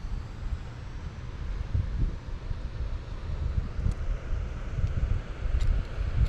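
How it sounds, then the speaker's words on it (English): Wind blowing steadily across a vegetable garden with cauliflower, spinach and lettuce beds, a continuous low rumbling buffet against the microphone with gusty swells and no talk. "And the wind is blowing today."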